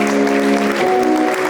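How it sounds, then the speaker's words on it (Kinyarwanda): Wedding guests applaud while music plays, with warm clapping layered over a steady tonal hum from the celebration. "Imana amashyi menshi cyane"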